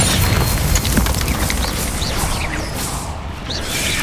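A Descendo spell slams down in Hogwarts Legacy, a heavy booming impact with a rushing whoosh that rolls into a sustained crashing rumble, loud and dense throughout.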